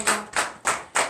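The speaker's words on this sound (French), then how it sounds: "Donnons une acclamation à l'Éternel des armées." A church congregation at a morning prayer service claps in four evenly spaced, loud bursts of applause with no voices over it.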